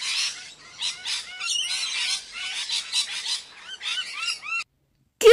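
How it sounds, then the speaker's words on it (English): A parrot squawks in a rapid string of harsh, raspy calls, loud and close, with short gaps between bursts, then a brief silence before a sudden final sound. "P for parrot."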